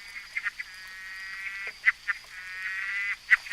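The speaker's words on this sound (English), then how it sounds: "So this is the Natal tree frog." Natal tree frog calling in KwaZulu-Natal, faint repeated nasal croaks and harsh rasping pulses, several short bursts over a quiet background.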